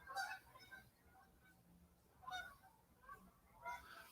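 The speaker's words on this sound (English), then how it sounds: "Here's the ducks." Waterfowl honk in a few separate faint calls spaced over a quiet background, distant and sparse.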